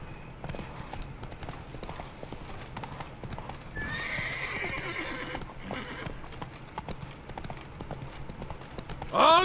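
A horse's hooves in The Witcher 3 clop in a steady, close rhythm, joined midway by a bright neigh and ending with a sudden louder snort or whinny.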